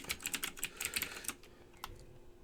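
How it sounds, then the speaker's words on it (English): A name is typed on a computer keyboard at a login console, a quick close run of light key clicks that thins out near the end, with no voices. "I'm just going to type in my name."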